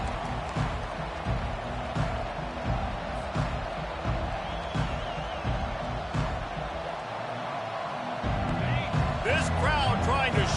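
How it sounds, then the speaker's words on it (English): A stadium crowd in the EA Sports College Football video game roars as a continuous dense wash of noise, swelling louder toward the end, with a voice talking over it. "This crowd trying to show them what it's going to be like all day in this house."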